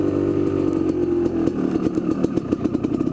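Kawasaki KDX250 two-stroke dirt bike engine running with the choke on, a loud close rapid rattling putter that holds steady with slight throttle variation, no talking.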